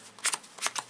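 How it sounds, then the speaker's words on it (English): A deck of Yu-Gi-Oh! trading cards is shuffled close up in two quick riffling bursts of crisp, papery flutter, with soft handling between them. "I'm gonna show shuffling to prove that it is well shuffled"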